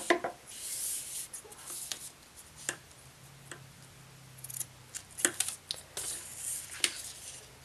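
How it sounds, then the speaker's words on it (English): Scissors snip through duct tape to cut squares from the corners of a handmade pencil pouch, giving sharp, scattered clicks and crisp cuts close up over a quiet background, with no talking. "Then cut a square off of the corners like that so that you are able to fold in this little tab."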